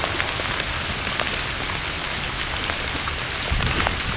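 Heavy pouring rain outdoors at a dog training field test in Ohio, a dense, loud and constant hiss of drops hitting the ground with scattered sharper splashes and no pauses.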